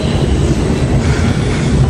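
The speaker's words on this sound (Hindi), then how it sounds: "आ गई मेट्रो" Metro train arriving at Chandni Chowk station, a loud, steady rumble and rush of the cars filling the platform throughout, with no talk over it.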